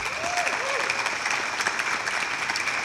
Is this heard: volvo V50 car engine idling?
no